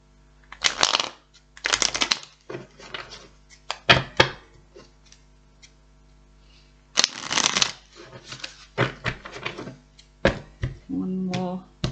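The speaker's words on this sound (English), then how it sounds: "One more shuffle." Tarot cards are shuffled by hand in repeated riffling bursts with short pauses between them, close and crisp, with a few soft taps as the deck is squared.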